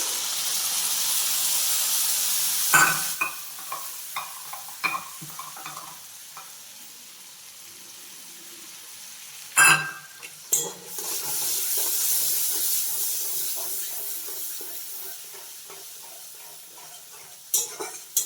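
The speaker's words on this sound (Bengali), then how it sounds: "দইটা একটু কষিয়ে নেব" Yogurt and tomato sautéing in a pan with sugar, salt and turmeric, giving a soft steady sizzle and hiss with scattered scraping stir strokes and a few sharper clacks of utensil against the pan.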